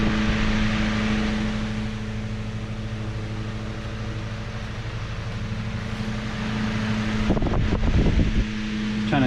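Antique Emerson electric fan running on high and oscillating, a steady close whirring drone with a constant motor hum and some wind buffeting on the microphone, then a few knocks and rattles near the end.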